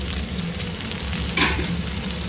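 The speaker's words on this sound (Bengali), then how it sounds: "ভালো ভাজা হয়ে গেছে। শাকে দিয়ে দেবো" Poi saag and kharkol leaves sizzling in hot oil with black cumin, a steady close frying hiss with a brief stir partway through.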